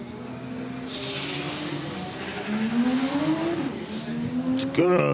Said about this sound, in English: Good solid launch by Harvey Bogle